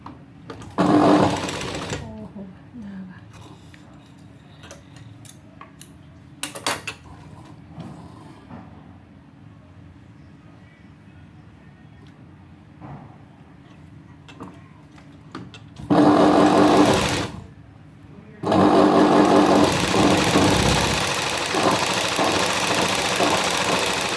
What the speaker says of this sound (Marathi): याला अशी फोल्ड करून शिलाई मारायची